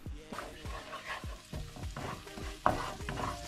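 Butter melting and sizzling in a pan, heard as a quiet, low frying hiss under a series of close, rhythmic clacks and scrapes from stirring, with one sharper knock near the end and no voices.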